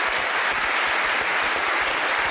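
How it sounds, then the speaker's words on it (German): A German TV panel game show's studio audience applauds in a dense, even, continuous burst of clapping with no talk over it. "jetzt können Sie klatschen"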